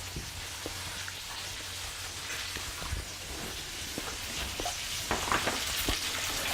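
Lamb sizzles and crackles in a hot cast iron pan, a steady frying hiss with scattered pops and spits throughout, fairly close and without speech.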